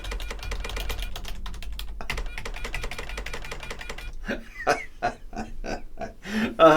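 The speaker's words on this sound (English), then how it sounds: "Computer typing noises." Rapid computer keyboard typing clatters steadily in the video game Wing Commander Prophecy, then gives way to a few louder, spaced electronic blips and beeps.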